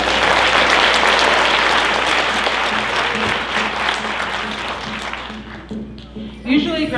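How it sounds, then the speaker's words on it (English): An audience at a Ute pow-wow dance performance claps loudly and steadily in a dense wave of applause. The applause slowly thins toward the end, and a voice comes in as it fades. "Let's get a round of applause."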